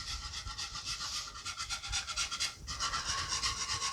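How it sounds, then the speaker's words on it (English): Butter and heavy whipping cream being whisked into a Parmesan Alfredo sauce, a steady rasping scrape of the whisk against the pan that continues throughout at close range with no talk. "you want to keep whisking the entire time"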